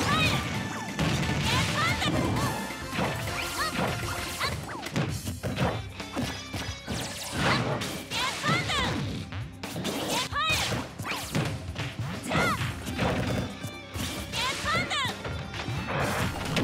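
Smash attacks from Super Smash Bros, including an up smash out of shield against Ness, land as repeated sharp crashing hits and whooshes over dense game music and effects, with a voice talking throughout.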